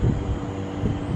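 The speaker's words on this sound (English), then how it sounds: "at least it's windy up here" Steady low rumbling wind buffeting the microphone on an upper floor of a Waseda University dormitory, with a couple of stronger gusts swelling briefly; no voices.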